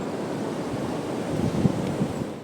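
Sea waves of the incoming tide on the Konkan coast wash in as a continuous close surge mixed with wind rumble, swelling slightly near the end, with no voices.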